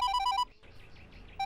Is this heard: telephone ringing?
yes